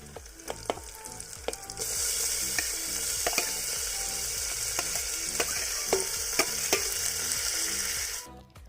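Chillies and onions sizzle steadily as they fry in a pressure cooker over medium flame, a loud continuous hiss broken by repeated knocks and scrapes of stirring, with no talking.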